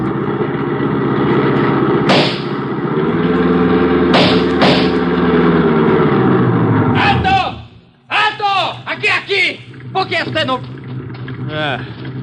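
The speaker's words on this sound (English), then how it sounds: "A small blue roadster hesitates and then turns up this crude trail" A small blue roadster's engine hums steadily as the car hesitates and turns onto a crude dirt trail, a loud, continuous drone that cuts off abruptly and gives way to talk.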